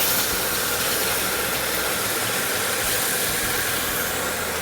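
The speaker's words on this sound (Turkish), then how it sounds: "şimdi soğuk vaziyette erittiğim şerbetimi ilave ediyorum. Yavaş yavaş döküyorum." Cold syrup poured slowly into hot flour-and-walnut halva in a pan, giving a loud, steady hiss of sizzling steam that holds evenly throughout, close and broadband.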